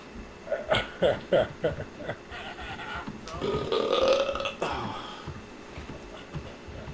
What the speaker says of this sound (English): You're gonna have to belch again.